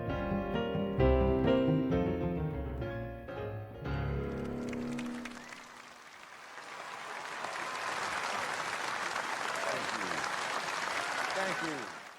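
Audience applause from the film Green Book swells after a passage of piano music, a dense, sustained clatter of many hands that fills the back half and holds steady to the end.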